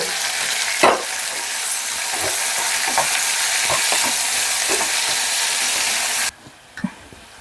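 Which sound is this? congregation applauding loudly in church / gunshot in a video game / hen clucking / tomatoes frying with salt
tomatoes frying with salt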